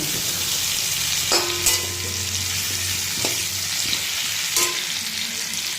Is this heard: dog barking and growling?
no